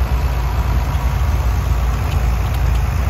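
An antique 4320 tractor, one of only 90 built, runs at a parade of power at an antique tractor and steam engine show, its engine a steady, close, low rumble with no talk over it.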